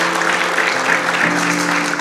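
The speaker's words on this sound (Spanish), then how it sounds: "Esto merece un fuerte aplauso" Strong applause from a church congregation during a Spanish-language worship service, steady and loud throughout, with a sustained low tone underneath.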